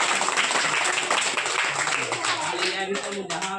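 An audience clapping, dense and continuous applause with a speaking voice mixed in beneath it.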